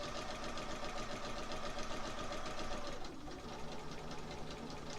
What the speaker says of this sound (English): I'm going to go ahead and sew those as well.